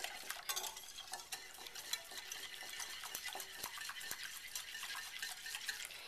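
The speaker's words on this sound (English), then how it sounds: "And I'm going to whisk." A whisk beats a chocolate pudding mixture in a bowl, giving a fast, steady scraping and clinking, faint and close, with no talk.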